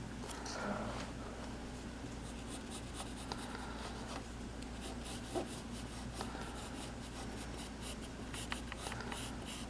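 A graphite pencil scratches and rubs across paper while someone sketches a Spinosaurus, making soft, close, continuous strokes with small irregular accents and no voices.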